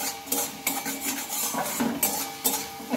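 Greens and potato cooked with turmeric are stirred in a pan, giving repeated scraping and clinking of a utensil against the metal at a steady, moderate pace, close and fairly quiet with no voices.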